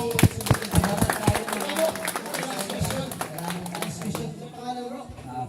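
An audience at an open forum claps and cheers together in a dense burst of applause that gradually thins out, with voices mixed in.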